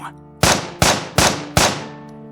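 Four sharp gunshots crack out in a radio play, evenly spaced less than half a second apart, each ringing off into a decaying tail over a low background hum.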